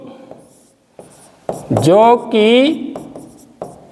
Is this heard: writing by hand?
yes